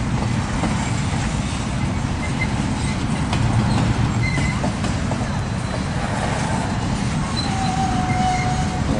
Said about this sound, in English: Slowing up for the depot so that the Kenora guys can get off the train